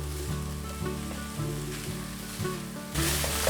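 A shiitake mushroom and celery filling, seasoned with soy sauce, is stir-fried in a pan for a vegan dish, giving a steady, moderate sizzle with light stirring scrapes throughout.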